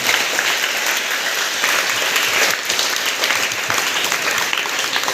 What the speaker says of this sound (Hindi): एक बार उसके लिए भी तालियां होनी चाहिए।